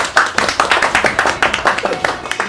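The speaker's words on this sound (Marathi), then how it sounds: "चल बाकीचे टाळ्या वाजू द्या" An audience claps in a fast, steady rhythm during a ring-toss round on a Marathi home game show, the brisk hand claps close and continuous, with faint voices mixed in.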